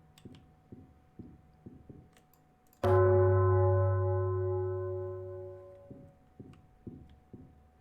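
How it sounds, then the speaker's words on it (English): A large bell rings once in an indie horror video game, struck loud with a long humming decay over several seconds, set against a quiet ticking or footstep-like rhythm before and after. "I want to ring the bell."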